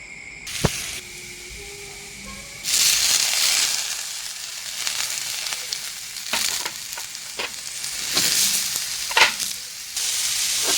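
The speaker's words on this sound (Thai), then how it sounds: "เราก็ผัดแบบนี้เข้าไปให้เข้ากันก่อนนะคะ" Tilapia and celery sizzle loudly in a hot pan while a utensil scrapes and tosses them in irregular strokes, after a brief beep at the start.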